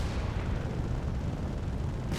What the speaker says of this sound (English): I mean, I'm definitely doing some shooting.